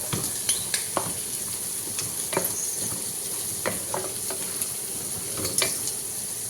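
Potato prawn biryani masala with capsicum sizzles steadily in a pan, a close, continuous frying hiss broken by soft stirring scrapes and a few light clinks, with no talking.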